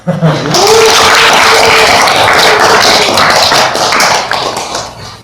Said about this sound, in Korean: 좀 떨리는 마음이라 박수를 쳐주시면